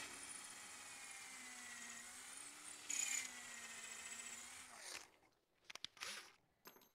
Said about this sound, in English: Because I'm drilling end grain, you see,